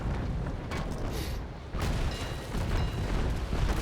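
Ship cannons fire in the naval sailing battle game Naval Action, a rolling series of deep booms with a sharp new blast about midway, loud and continuous.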